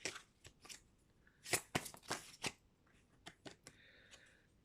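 Cards from the Sacred Traveler oracle deck are shuffled and drawn close by, a series of sharp riffling snaps and soft slides in irregular bursts, with no talking.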